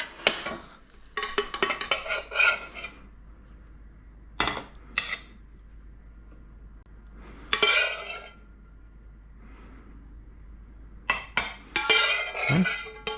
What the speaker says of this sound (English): let me get a spoon to serve this up